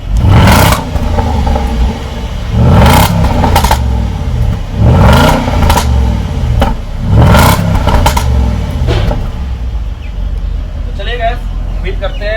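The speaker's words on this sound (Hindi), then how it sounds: "उम्मीद करते हैं एग्जॉस्ट की साउंड आपको बढ़िया लगी होगी" A Jaguar XJL's exhaust revs in repeated loud bursts, each swelling and falling back roughly every two seconds, with a steady engine rumble between them and people talking over it.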